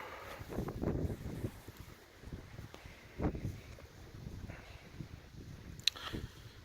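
Strong gusting wind on the summit of Tom Dick and Harry Mountain near Mount Hood, Oregon, buffeting the microphone in low rumbling bursts of uneven strength, with no voices.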